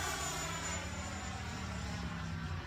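FMS Integral 80mm RC jet at full throttle and climbing, a constant loud whooshing roar with a thin high whine running across it, steady with no breaks.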